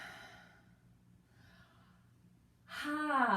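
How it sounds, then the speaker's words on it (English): A person gives a big yawn: soft breathy inhales in near-quiet, then a loud, open, voiced yawn swelling at the end. "Take a big yawn."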